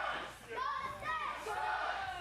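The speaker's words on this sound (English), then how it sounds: "there's some kids chanting Dustin." Kids in the crowd at an independent wrestling show chant a wrestler's name in rising, repeated shouts over a murmuring arena crowd, at moderate distance.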